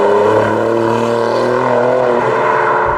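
Alfa Romeo Giulia Quadrifoglio engine in race mode, a loud, close, steady drone with rising revs and a quick shift near the end, no voices.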